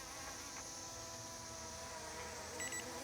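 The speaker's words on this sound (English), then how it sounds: "Now we got a beeping. That means we're at low battery." A small brushless camera drone's whirring buzz hums steadily throughout, with a pair of short, quick low-battery warning beeps sounding near the end.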